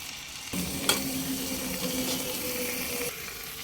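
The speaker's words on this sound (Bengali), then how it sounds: "পাশের চুলায় এক টুকরো চারকোল আমি জ্বালিয়ে নিয়েছি ছোট্ট বাটির মধ্যে দিয়ে দেব স্মোকি ফ্লেভারের জন্য দিয়ে দেবো এক টুকরো বাটার" A piece of butter sizzles as it lands on burning charcoal set in a small bowl beside a tandoori roast chicken, giving a steady close hiss that starts suddenly and holds for a few seconds.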